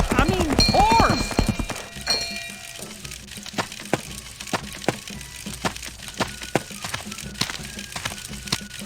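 Hooves of a horse in the Lionel Trans-Con video game clip-clop in a steady, fairly loud rhythm, following a short whinny-like call and game effects at the start.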